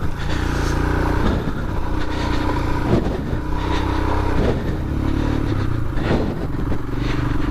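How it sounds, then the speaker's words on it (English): A Royal Enfield Himalayan motorcycle with a knobbly rear tyre chugs uphill on a UK dirt trail, its engine a loud, close, steady thump that swells and dips with throttle changes. "And that engine is just chug, up we go."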